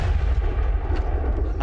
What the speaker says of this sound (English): Jamie has the chance to fire this supersized flechette gun